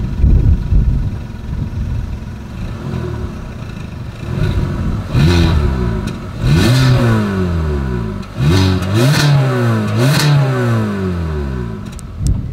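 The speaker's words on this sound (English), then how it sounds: "As always, here is that exhaust clip." Single exhaust of a 2024 Hyundai Venue as its engine is revved, a steady idle rising into several sweeping throttle blips that climb and fall, close and fairly loud, with no talking.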